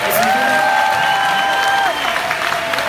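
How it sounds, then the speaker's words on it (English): A concert audience at Epcot's Festival of the Arts claps and cheers for a Broadway concert band, steady applause with a held whistle or tone cutting through the first two seconds before the clapping eases slightly. "how about a round of applause for this fantastic band"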